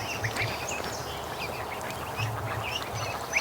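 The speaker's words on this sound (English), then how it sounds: "That's a gosling from the second hatch." Young waterfowl peeping, a gosling among hatchling ducklings, with repeated soft high chirps scattered throughout over a steady low background murmur, close by.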